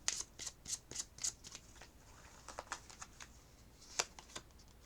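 A deck of oracle cards being shuffled close by in quick, crisp riffling bursts with brief pauses between them, alone without any talk.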